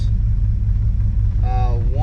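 A barn find car's engine idles low and slightly stumbly while waiting in a drive-thru line, a steady close rumble throughout, with a brief high whine near the end.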